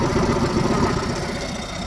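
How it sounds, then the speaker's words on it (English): A 2011 Mercury 15 hp short-shaft four-stroke outboard running at a steady idle, a close, even, buzzing engine drone with slight mechanical rattle and no pauses or voices. "This is a 2011 Mercury 15 horse short shaft 4-stroke."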